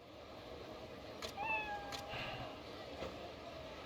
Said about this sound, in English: Let me in, that's my cat.